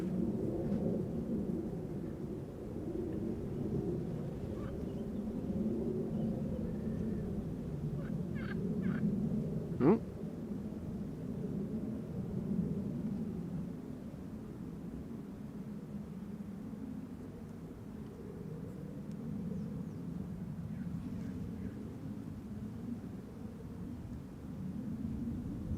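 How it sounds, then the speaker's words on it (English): A KLM airliner departing Schiphol passes overhead outbound, heard as a low, rumbling roar that holds steady and fairly distant, with a brief sharp knock midway. "Another KLM overhead,"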